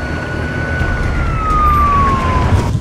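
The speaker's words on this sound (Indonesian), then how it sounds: "Lalu mengangkut King dan Reddington menggunakan mobil ambulan" An ambulance siren sounds in a TV drama scene, a steady tone that slowly slides downward, heard fairly loud over rumbling traffic-like background noise.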